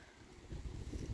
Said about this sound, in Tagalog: Kasi very windy here.